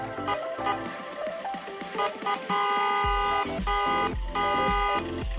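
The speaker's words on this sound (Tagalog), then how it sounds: "Busina muna." A mini RC toy car's electronic horn honks loudly and close by, several steady buzzy blasts separated by short gaps, with no talking.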